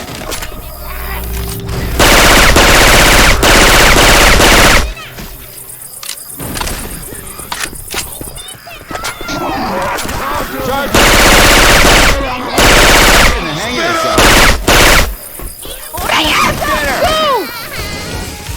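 Heavy automatic gunfire and shotgun blasts from Syphon Filter weapon sounds fill a Left 4 Dead 2 zombie fight, with loud sustained bursts, explosions and chaotic game noise, while characters shout over the firing.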